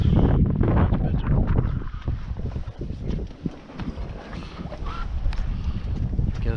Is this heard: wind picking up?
yes